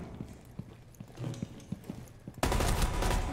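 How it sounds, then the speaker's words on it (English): Burst of gunfire in Rainbow Six Siege, a sudden loud sustained volley of shots erupting after a stretch of quieter footstep-like clatter, dense and close at the end. "I'm with you, they're firing me."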